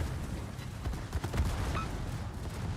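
Torpedo hits striking a ship in World of Warships, a dense, continuous roar of explosions and gunfire-like bursts with a few sharper impacts, loud and sustained without speech.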